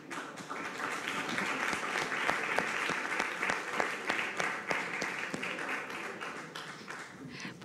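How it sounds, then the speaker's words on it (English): An audience at a film festival award-winners press conference claps for several seconds, a moderately loud, even applause with distinct individual claps popping out, faint voices murmuring beneath. "A big round of applause, please"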